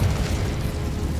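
Bombarda explosion spell going off in the Hogwarts Legacy video game, a loud, heavy low boom with a rumbling tail filling the whole short moment, no talking.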